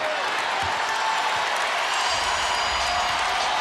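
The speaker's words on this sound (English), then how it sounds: "This crowd, as loud as any crowd we've heard all season to start the game." A packed basketball arena crowd roars at the start of a 2011 Spurs vs Grizzlies playoff game, a loud, unbroken wall of cheering and clapping.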